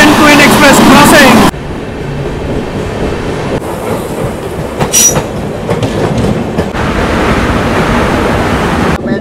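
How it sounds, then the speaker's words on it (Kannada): An express train rumbles past on the railway near Wadi junction, a loud steady roar of wheels and carriages with clattering bursts and brief squeals, close and continuous. "Second Queen Express crossing."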